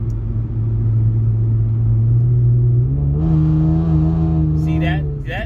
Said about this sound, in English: my AXLEBACK is valve controlled, which means that I can change how loud my exhaust is by a flick of a button